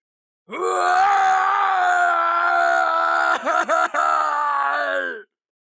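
A plant creature lets out an agonizing, drawn-out scream, loud and sustained for several seconds, briefly breaking into choppy gasping bursts before trailing off.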